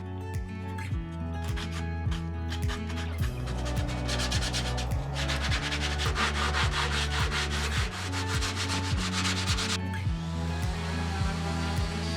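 A sanding block is rubbed by hand across a wooden bear-shaped bottle opener wall hanger to knock off large burrs, giving steady, repeated scraping strokes close up, loud and continuous with no talking.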